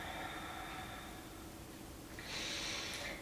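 A single soft exhalation during an ankle mobility exercise, a faint breathy rush of air toward the end over steady background hiss.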